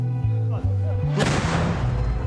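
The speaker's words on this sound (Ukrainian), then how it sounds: "Вибух." A few brief vocal sounds, then a single loud, sharp blast erupts and its rumbling noise decays over about a second.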